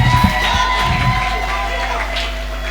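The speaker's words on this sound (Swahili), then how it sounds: "Pigia Yesu makofi na vikelekele." Church congregation cheering, shouting and ululating in praise of Jesus, a loud, continuous crowd roar with whoops and yells over a steady low hum, with bits of voices mixed in.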